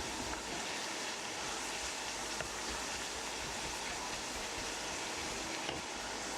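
Okra frying in a pan with onions and spices, cooked over low to medium heat, gives a steady, dense sizzle and hiss that runs continuously, with no talk.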